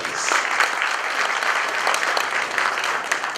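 An audience at a formal gathering with a former president and the Asantehene claps, a continuous, fairly loud round of applause with individual claps standing out throughout.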